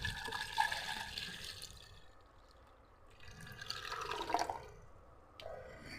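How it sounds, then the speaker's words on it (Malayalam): Hot water poured from a kettle into a cooking pot holding gooseberries, chillies and rock salt: a close, steady splashing pour that fades, followed by a second short burst of liquid. "പാത്രത്തിലോട്ട് ചൂടുവെള്ളം ഒഴിച്ചെടുക്കാം"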